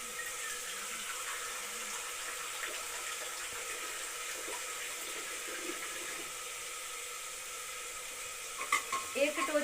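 A bay leaf sizzles in a hot pan as it is stirred for rice with peas, a close, steady hiss of frying with light scraping, ending in a few louder stirring knocks.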